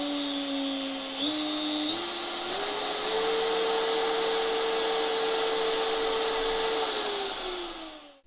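A DeWalt power tool runs up from its lowest speed setting to maximum, a steady motor whine stepping up in pitch several times before easing off at the end, heard alone and close.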